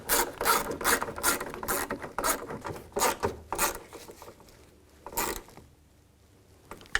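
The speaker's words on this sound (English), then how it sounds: "Now I'll take the other nuts and get those started. Just try to tighten them down evenly." A ratchet tightening the mounting nuts on a side view mirror of a 2002-06 Chevy Avalanche, heard as close, rapid clicking in quick bursts that slow and fade toward the end, with no talk.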